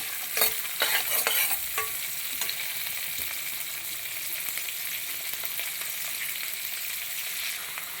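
Sliced onions and green chillies fry in a pan, a few clattering stirs at first, then a steady close sizzle continuing alone without speech.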